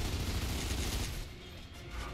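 Gears of War 2 gameplay with a dense burst of rapid gunfire, a continuous rattling barrage that eases after a second, heard at moderate level without talk.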